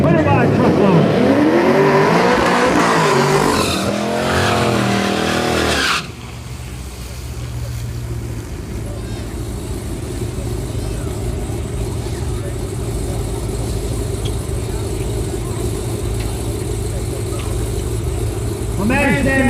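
A Camaro in a no-prep drag race, its engine revving hard with rising and falling pitch and tire noise in the opening seconds, then a steadier engine rumble after a sharp cut, with an announcer talking throughout.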